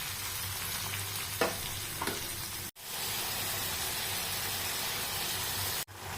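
A chicken masala of coriander powder, tomato, ginger garlic paste and salt fries in a pan with a loud, even, hissing sizzle, briefly cut twice by near silence and marked by a couple of soft stirring knocks, with nobody speaking.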